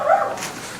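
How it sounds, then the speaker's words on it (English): A pet dog gives a single short bark or yip, close by and brief, with no talking around it. "That's my dog."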